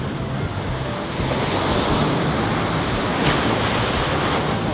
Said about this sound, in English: Get ready for a wave and I'll scoop up some water.